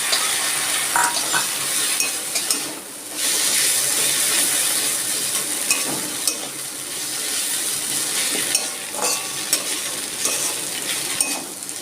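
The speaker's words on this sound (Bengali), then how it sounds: "আমার উচ্ছে ভাজাটা হয়ে গেছে" Bitter gourd fries in a pan with mustard paste and a little water, a loud steady hiss and crackle running throughout, broken by occasional light scrapes and clinks.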